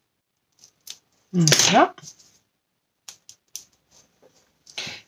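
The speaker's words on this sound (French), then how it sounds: "On va couper un tout petit peu ce qui dépasse" Scissors snip away excess material while a Christmas bauble is crafted by hand, giving a few short, close, crisp cuts with small handling clicks between them and a brief spoken word.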